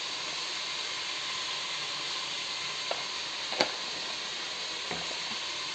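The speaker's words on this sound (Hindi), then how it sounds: "और अब हम इसमें डाल देंगे 1 चम्मच अदरक लहसुन का पेस्ट" Beef liver (kaleji) frying in a pan with ginger garlic paste and turmeric just added, giving a steady, even sizzle with a few faint clinks of a spoon against the pan.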